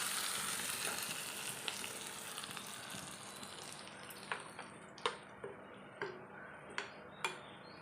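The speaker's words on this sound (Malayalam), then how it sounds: "കടുക് താളിച്ച് വയ്ക്കാം." Mustard seeds crackle and pop in hot oil while tempering for a coconut chutney, a steady frying hiss broken by several sharp, distinct pops toward the end, close and fairly quiet.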